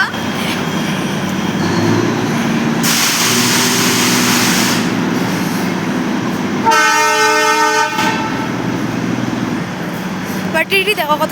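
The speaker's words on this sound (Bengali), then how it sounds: "টয় ট্রেন চলে, কি মজা" Darjeeling's toy train runs through town with a continuous rolling rumble and wagon clatter, then gives one long, loud horn blast, followed by brief chirping toots.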